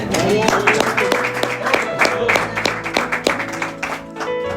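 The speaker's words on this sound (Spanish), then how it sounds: "Démosle un fuerte aplauso a Dios." A church congregation claps during a sermon, a moderate wash of hands over ringing musical tones, with the clapping thinning out toward the end.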